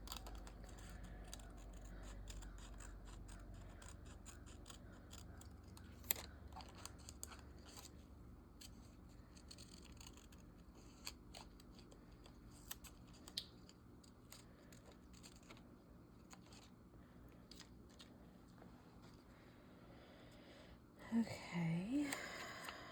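Quiet, steady snipping of scissors fussy cutting paper close to a drawn line, a soft run of small crisp cuts that lasts throughout, with a brief louder rustle near the end.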